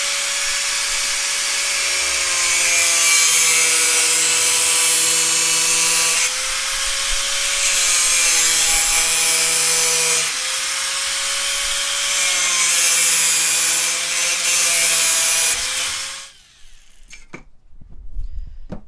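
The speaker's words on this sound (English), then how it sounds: "I'm going to use the angle grinder and I'm going to cut off this" An angle grinder cuts through a section of pipe for a quail feeder with a loud, steady high-pitched whine, pausing briefly twice before the disc spins down and stops near the end.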